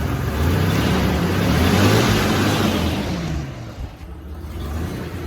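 A 1994 Ford Ranger engine with a broken throttle cable runs close by, a rough low rumble that swells slightly then settles to an uneven idle, no talk over it.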